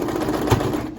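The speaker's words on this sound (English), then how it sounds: "This is my 4th sewing machine." A sewing machine stitches a fabric face mask, giving a steady, close mechanical whir with rapid needle clatter that runs continuously and fades slightly at the end.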